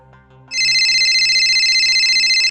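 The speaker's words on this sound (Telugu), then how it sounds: "అబ్బా, ఈడేంటి మళ్ళీ మళ్ళీ కాల్ చేస్తున్నాడు?" Mobile phone ringing with an incoming call, a loud, close electronic trilling ring sustained for about two seconds, then stopping, with no voices.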